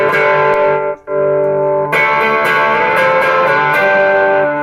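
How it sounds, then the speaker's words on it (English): Thick, heavily distorted electric guitar through a fully cranked Dice Works fuzz, sustained saturated chords that cut out briefly near the start and then ring on loudly. "I have the Dice Works fully cranked up with the fuzz"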